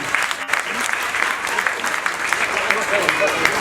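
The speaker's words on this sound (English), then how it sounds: "Round of applause for Police dog Remedy." A crowd at a police open day applauds Police dog Remedy, a steady wash of clapping from many hands, with a voice speaking over it.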